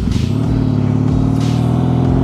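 A motorcycle fitted with drag pipes is run at full throttle from a stop, its exhaust blaring loud and deep with a steady, throbbing engine tone that climbs slightly near the end.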